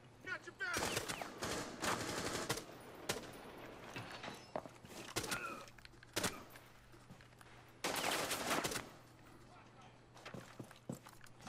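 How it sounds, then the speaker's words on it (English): Single-fire gunshots in the video game Rainbow Six Siege, several sharp separate shots spaced irregularly, with someone talking over the action. "Single fire only. Get your gun. Put it on single fire."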